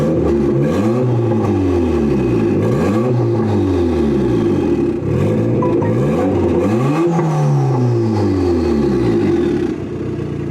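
A turbocharged Honda Integra engine revs loudly and repeatedly, climbing and falling in pitch in close, steady cycles, with a rising turbo whistle near the end.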